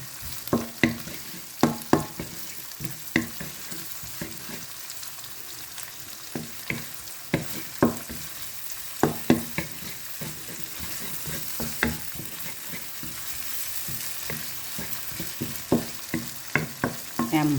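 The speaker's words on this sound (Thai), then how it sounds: "ผัดแฮมให้กรอบกรอบ" Ham stir-fried until crispy in a pan for tomato spaghetti: continuous sizzling with frequent sharp spatula scrapes and knocks against the pan, close and fairly loud, with no speech.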